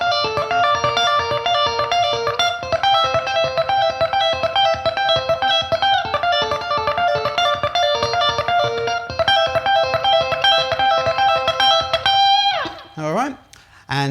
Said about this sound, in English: the next lick is the really sort of iconic part of this solo.